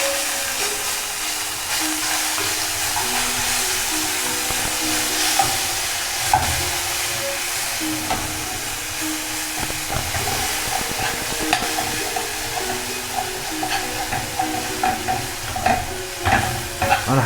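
Garlic fries in hot ghee for an Egyptian fatta sauce, a loud, steady sizzle with scraping stirring strokes that grow more frequent toward the end.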